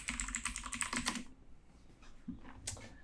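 Rapid clicking keystrokes on a computer keyboard, a close burst of typing that stops after about a second, then a few softer scattered taps.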